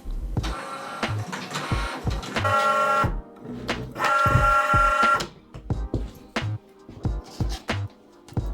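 A Likcut S501 cutting machine cuts vinyl with a string of short, whirring motor bursts and clicks. Two longer, louder buzzing passes come in between, all close by and with no voices.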